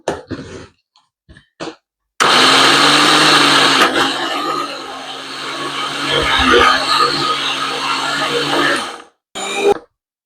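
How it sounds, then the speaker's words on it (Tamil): An electric mixer grinder pulverizing tamarind in a home kitchen, a loud close whirring grind lasting about seven seconds after a few brief clicks and knocks, then stopping, followed by a short final burst. "புளியை வந்து சேர்க்குறேன் சேர்த்துட்டு நல்லா அடிச்செடுப்போம்"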